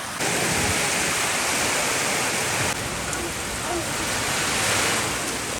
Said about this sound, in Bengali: হেভি জোরে বৃষ্টি হলো কিন্তু দেখো